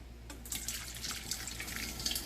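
Meat broth poured into a cup in a home kitchen, a steady close splashing trickle of liquid lasting a couple of seconds, fairly quiet with no talking.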